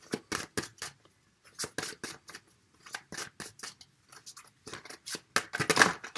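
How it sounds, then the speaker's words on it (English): Love cards being drawn and shuffled from a deck, close crisp flicking and sliding taps in irregular bursts with quiet gaps between. "So, let's draw some love cards"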